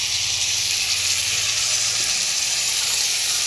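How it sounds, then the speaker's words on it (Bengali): Spices frying in a pan with onion and potato hiss and sizzle steadily after a splash of water, a loud, even crackle that holds for the whole stretch with no one talking. "সামান্য একটু জল দিয়ে দিচ্ছি, নাহলে মশলাটা নিচে লেগে যাবে"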